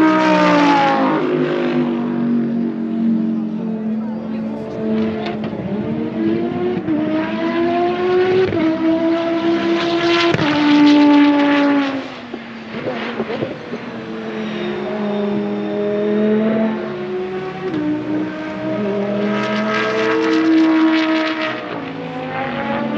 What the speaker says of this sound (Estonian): Vaadata, kus traction control teeb tööd. See ragin, mida te kuulete kurvist välja tulles.